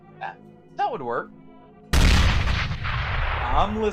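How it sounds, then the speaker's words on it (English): A loud explosion erupts in the video game S.T.A.L.K.E.R. GAMMA, a sudden heavy boom with rumbling gunfire trailing after it, preceded by a few brief voiced sounds. "I'm listening to your explosion there, Brian."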